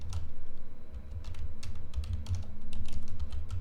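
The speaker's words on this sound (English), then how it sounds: "let's just like type in some random numbers" Rapid random finger-mashing on a computer keyboard as numbers are typed in, a dense run of close, crisp key clicks over a low steady hum, with no talking.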